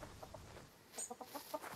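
A chicken in the survival video game Scum clucks in a quick run of short, fairly faint clucks with a brief higher squawk near the middle, and no one speaks.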